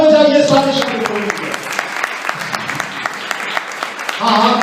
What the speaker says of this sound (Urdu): تالیاں بجائیے سارے شاگرد کو.